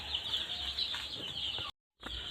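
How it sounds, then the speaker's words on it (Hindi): A group of young desi chicks in a home poultry setup peep continuously in a high, busy chorus at moderate distance, briefly cut off by a sudden gap before the chirping resumes. "इन चूज़ों को आप देख सकते हैं बहुत अच्छी तरीके से।"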